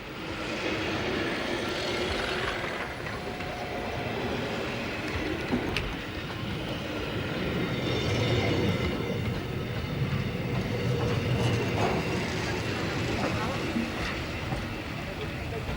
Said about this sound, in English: The train comprises coaches of the 3 railways which operate the Glacier Express